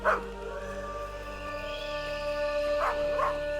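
A few short dog barks and yips over a steady humming electronic drone in the video game Maid of Sker, with the barking sounding somewhat distant.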